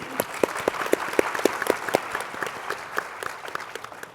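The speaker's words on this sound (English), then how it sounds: "so round of applause for our speakers" Audience applause for a panel of speakers at an animal advocacy media event, a burst of dense clapping with sharp individual claps at first, gradually thinning and softening over a few seconds.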